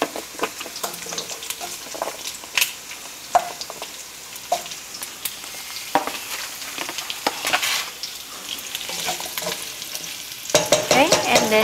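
Carrots being stir-fried with garlic in a hot pan for Chinese braised pork, with steady sizzling and repeated scraping stirs of the utensil, close and loud, no talking.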